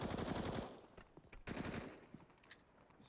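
Scout sniper rifle shots ring out in a CS:GO professional esports match: a few sharp, loud cracks with ringing tails, then quieter scattered gunfire, with no talk over it.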